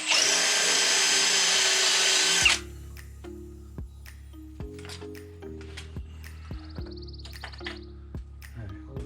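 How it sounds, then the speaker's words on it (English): A power drill bores into the frame of a Yamaha YFZ450R quad to mount a belly skid plate, a loud steady whine for about two seconds that cuts off abruptly, followed by quieter clicks and low tonal hums. "Alright, we'll drill this."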